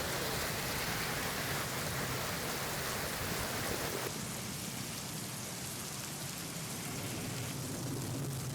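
Heavy monsoon rain pours steadily near the Jagbudi river in Konkan, a dense, continuous broadband hiss that thins slightly partway through, with no voices.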